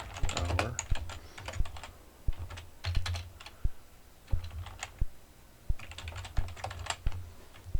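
Fast, confident touch typing on a computer keyboard, close and clear, with bursts of rapid key clicks and sharper single taps in an uneven rhythm, no voices.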